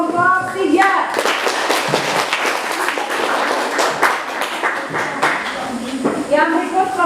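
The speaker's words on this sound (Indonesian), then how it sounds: "Silakan beri aplaus untuk kelompok 3" Classroom audience clapping for a student group that has just presented, a dense steady patter of hands running the whole time with a voice talking over it at the start and again near the end.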